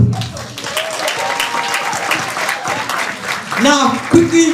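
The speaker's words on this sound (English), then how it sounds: "So a big round of applause for each one of them." Symposium audience applauding, a dense round of clapping from many hands in a room, with voices and a few cheers mixed in toward the end.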